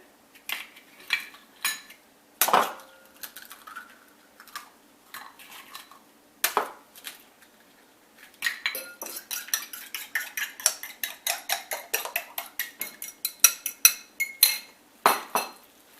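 Three eggs being mixed thoroughly in a bowl for a stuffed chicken breast recipe, a utensil clinking and scraping against the dish in quick, uneven bursts, denser and faster toward the end, close and clear with no talking.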